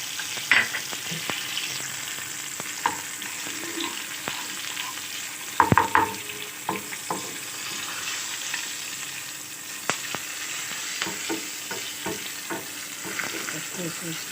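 Cumin and fenugreek seeds sizzling in oil for chana dal, a soft constant hiss broken by stirring scrapes and a brief louder clatter midway, close and fairly quiet.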